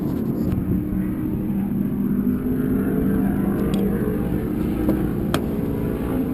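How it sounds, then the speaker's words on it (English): A car engine left idling nearby at a Willow Springs racing event for formula and sports racers, a steady low rumble running unbroken throughout, with a few faint clicks over it. "Oh, I left the car running."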